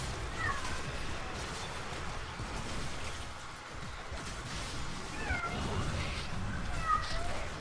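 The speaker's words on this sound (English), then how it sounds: "I apologize for the cat." A cat meows a couple of times over loud, busy Heroes of the Storm game sounds, its cries thin and mid-distance amid constant battle noise.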